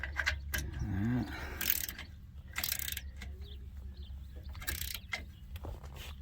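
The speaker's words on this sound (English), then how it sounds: "All right, so I went and got a ratchet." A hand ratchet snugging the mounting bolts of an electric trailer jack, giving a few short, quiet clicking bursts between pauses, with faint background noise and a brief voice.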